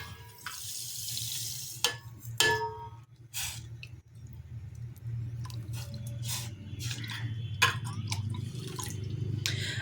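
Water poured into a pan in a home kitchen to make sugar syrup for rosogolla, a running splash with scattered drips and clinks of utensils, near and fairly quiet.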